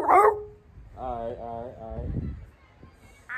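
A big dog gives a few whimpering, whining calls in a short rhythmic series, close by and moderately loud, with people talking around it.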